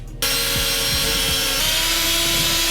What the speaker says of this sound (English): we're gonna take a drill with a 1/4 inch drill bit